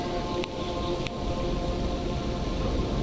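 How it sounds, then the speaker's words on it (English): Steady heavy rain in the video game Stalker Anomaly, a dense continuous hiss of falling water with a couple of faint ticking sounds near the start. "Sometimes the rain will fight you heavily on lighting a campfire."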